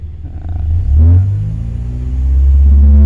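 A vehicle engine fitted with a vacuum-solenoid-controlled power jet revs up toward 5000 rpm, its loud, close roar climbing steadily in pitch over a few seconds with no talking.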